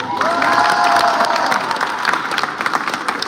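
A crowd at a sports signing day applauds and cheers, with whoops and shouts rising over dense clapping that stays loud throughout.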